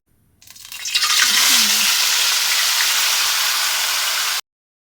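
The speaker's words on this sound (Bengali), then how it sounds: "এটা উল্টায় পাল্টায় রান্না করে নেব" Whole chicken (durus kura) fries in hot oil while being turned, a loud, dense sizzling hiss that starts suddenly, holds steady for about four seconds, then cuts off.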